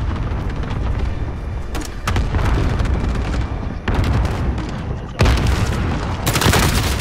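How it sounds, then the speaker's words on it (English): Airstrike explosions in a video game, a dense run of loud, sustained booms and blasts with fresh detonations striking at several points, continuous heavy rumble throughout. "You don't hear my airstrike going off,"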